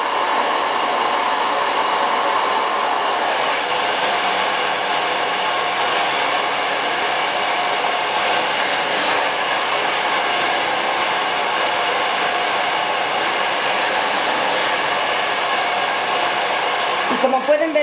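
A hair dryer blowing on its cool setting while hair is styled with a brush, a loud steady close whoosh that holds for most of the time and ends with a short clatter.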